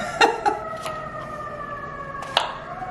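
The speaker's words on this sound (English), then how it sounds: "so there's always a siren of some sort." Emergency vehicle siren in downtown Chicago, its steady wailing tone drawn out over a few seconds with a couple of sharp bird-like chirps and bursts cutting in over the street hum.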